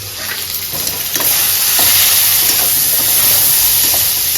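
Onions fry with salt in a pan for Bengali prawn curry, giving a loud, continuous sizzle and hiss that swells slightly and holds steady throughout.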